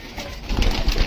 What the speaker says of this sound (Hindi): अभी मैंने अपने सभी कबूतरों को खोल दिया है और एक एक करके हमारे सारे कबूतर आ रहे हैं बाहर